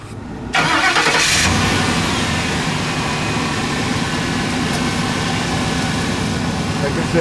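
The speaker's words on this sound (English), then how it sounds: "Turn the engine on." A 2006 Ford E350 Super Duty 15-passenger van with a 5.4-liter two-valve V8 cranks over and catches with a loud start. The engine then settles into a steady, full idle close by.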